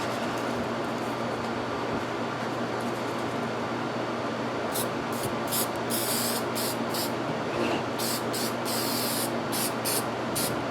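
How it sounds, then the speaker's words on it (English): An aerosol spray can sprays paint onto Saab 9000 door trim, giving a steady loud hiss throughout, broken near the end by several short, sharper bursts of spraying. "Light spray at first."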